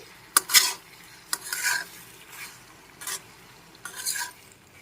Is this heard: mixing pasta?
yes